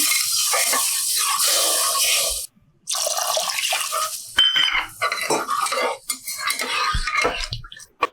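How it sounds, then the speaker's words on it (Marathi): Water runs and splashes into a metal pot, with dishes and utensils clanking, as cold water is added to semolina kheer. The flow is steady and close, breaks off briefly, then resumes with stirring and knocks. No one speaks. "पाणी मी थंडच घालते आहे खिरीसाठी थंड पाणी वापरलं तरी चालतं"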